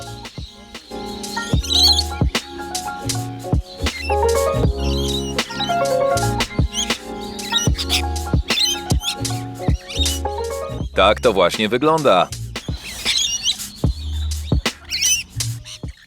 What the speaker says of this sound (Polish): Papug jest mnóstwo. Na obiad przylatują nawet ogromne kakadu.